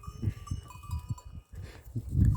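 Sheep and lambs bleating on a farm, several short low calls in quick succession, close by, with a louder bleat at the end and a faint bell-like tinkle in the background.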